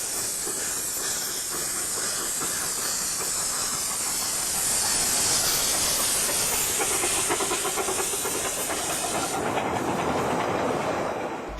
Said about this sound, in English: 2 steam locos were in use,